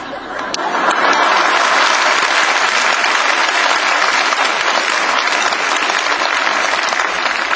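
Loud, sustained applause from a lecture audience in a Baptist church, dense continuous clapping from many people with faint laughter mixed in.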